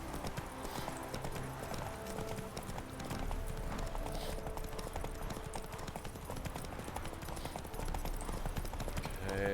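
Roach the horse gallops in The Witcher 3, hooves pounding in a steady rapid clip-clop that runs the whole time over a dense game soundscape, with an occasional snort and a faint voice.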